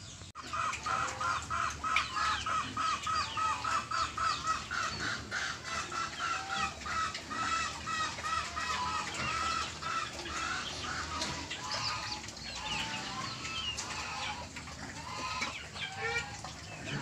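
Native chickens clucking continuously in heavy rain on a Philippine farm, a flock of many overlapping calls and occasional crowing over the steady roar of rainfall.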